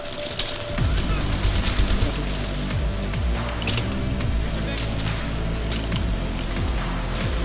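Battlefield 3 gunfire rattles in rapid, sustained bursts over a constant low engine-like rumble, with several rounds sounding close and others further off, forming a dense, continuous battle din.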